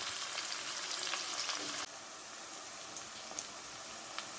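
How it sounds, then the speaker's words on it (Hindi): Onions with a cinnamon stick sizzle steadily in hot oil in a pan, close and alone, the hiss dropping slightly partway through with a few small pops. "इस तरह प्याज डाल के इसको अच्छी फ्राई कर लेते हैं।"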